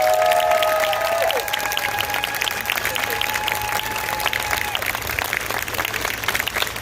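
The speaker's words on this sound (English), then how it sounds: "A round of applause for Dr." An audience at a vegan food festival talk applauds a speaker, steady crowd clapping mixed with cheering and a few whistles, sustained throughout at moderate loudness.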